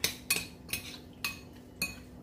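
Broth being mixed into seitan in a pan, heard as a spoon scraping and knocking against the pan in several distinct strokes, close and moderately loud.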